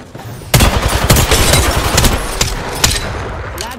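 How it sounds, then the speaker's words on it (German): Gunfire in the video game Apex Legends: a loud, close burst of rapid automatic fire with sharp shots sounding over a busy background, no speech over it. "Ah, die schießen."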